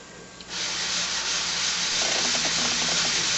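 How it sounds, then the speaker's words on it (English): Steady, close scratchy sanding of a hard resin bangle bracelet, a continuous rubbing hiss that starts after a brief quiet moment and continues evenly. "I'm going to keep sanding."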